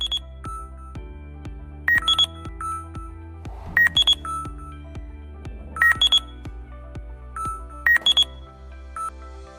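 A 3D ground scanner signalling a detected void, with repeating bursts of high electronic beeps in a regular pattern over a steady low electronic tone, close and fairly loud.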